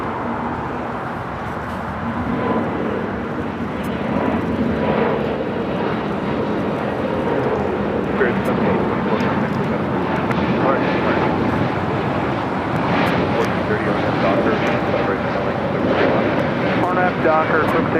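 A United airliner takes off on runway 25 right at LAX, a broad roaring engine rumble that stays loud and steady from start to finish, with talk over it.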